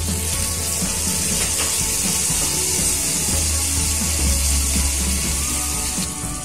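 Ginger, dried red chillies and green chillies sizzling in hot oil for moong dal khichdi, a loud, steady frying hiss alone throughout.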